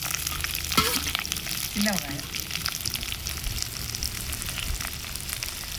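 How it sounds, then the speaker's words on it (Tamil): Onions and dried red chillies sizzle briskly in a little oil for a Madurai-style onion curry, a continuous crackling fry with occasional stirring scrapes, and a voice speaks briefly over it. "இந்த வெங்காயம் காஞ்ச மிளகாய் நல்லா பொரியட்டும்"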